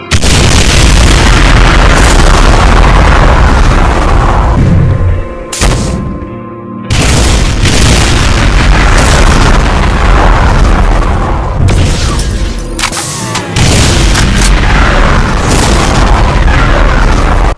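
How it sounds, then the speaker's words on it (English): Loud, heavy booming explosions from BFG 9000 shots in the DooM video game, dense rumbling blasts that roll on almost continuously, broken by a couple of short quiet gaps, with no voices. "A spread of BFG 9000 shots and linear empowered BFG 9000 shots."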